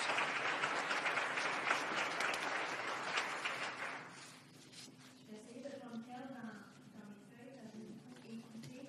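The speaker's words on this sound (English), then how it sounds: "you deserve a round of applause for yourselves" Audience applause after a learning-experience session, dense and sustained for about four seconds before fading as a single speaker begins talking over the tail end.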